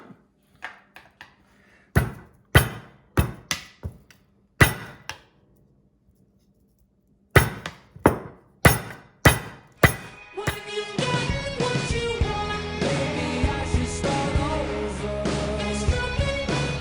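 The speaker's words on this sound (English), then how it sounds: "I pounded out the cutlets" Pork cutlets for tonkatsu are pounded flat with a string of sharp, separate thumps, spaced at first and then quicker. A loud run of clattering and rattling follows, with no talk.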